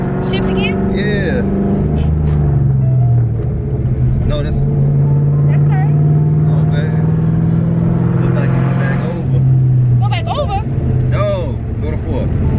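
A Ford Mustang Cobra engine runs steadily while driving, its drone rising and falling as gears are shifted, with people talking over it throughout.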